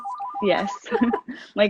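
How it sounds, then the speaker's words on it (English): A house landline telephone rings with a brief warbling electronic tone at the start, then voices talk over it. "Sorry about the phone."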